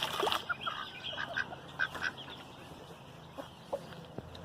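Poultry calls, soft clucks and a few quacking notes, scattered irregularly over a quiet outdoor background, moderately close.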